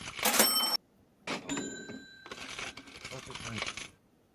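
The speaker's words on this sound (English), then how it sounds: "The little cash register." A small cash register sound effect on a drone and tech talk show, with a jingling burst of coins, a ringing bell chime and a rattling drawer clatter in quick succession, close and clear without talk.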